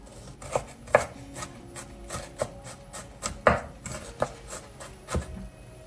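Knife chopping an onion finely on a board, a run of sharp, close, irregularly spaced knife strikes with several louder thumps between softer taps, no voices.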